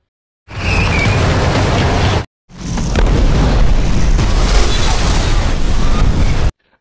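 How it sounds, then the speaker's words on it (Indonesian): A bomb explodes in a film about an armed attack on a school: a loud, sustained boom, a brief cut to silence, then a longer roaring blast that stops abruptly. "Melihat ledakan yang terjadi"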